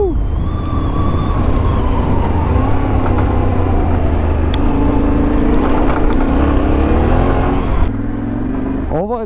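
A 2022 Yamaha Tenere 700 rides off-road on white gravel, its loud, close engine droning steadily with rising and falling pitch, then easing near the end.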